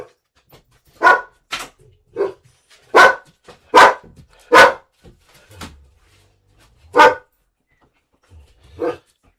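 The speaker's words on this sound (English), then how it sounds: "my dog's getting excited" A dog barks excitedly indoors, about eight sharp, loud barks in irregular bursts with short quiet gaps between them, close by and with no talk over them.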